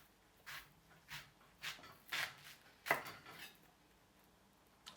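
A knife cuts an onion in half on a board, giving a series of soft, close taps and one sharper crunching slice, faint and separated by quiet pauses.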